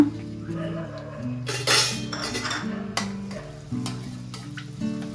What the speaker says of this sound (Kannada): ಎಣ್ಣೆ ಕಾದಿದೆ ಬೆಳ್ಳುಳ್ಳಿನ ಸಣ್ಣ ಸಣ್ಣ ಕಟ್ ಮಾಡಿ ಇಟ್ಕೊಂಡಿದ್ದೀನಿ ಈಗ ಅದನ್ನ ಸೇರಿಸ್ಕೊಳ್ಳೋಣ